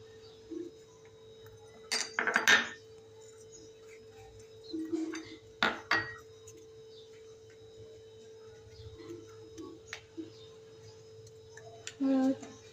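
Ingredients for a Maharashtrian stuffed capsicum filling get mixed in a pan, heard as sparse metallic clinks and taps of a spoon in quiet gaps, with a few brief bursts of clatter.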